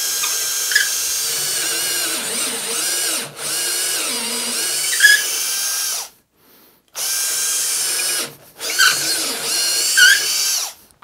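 Loud, close whine of a power drill driving a sharpened bit into wood during a workbench build, running in two long stretches separated by a silent pause, with brief bursts as the bit bites.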